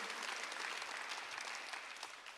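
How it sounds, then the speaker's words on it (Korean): A church congregation applauds steadily throughout a Sunday service, a dense wash of clapping that stays even in loudness from start to finish. "믿으시면 박수를 하세요"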